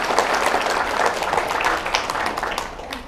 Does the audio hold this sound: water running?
no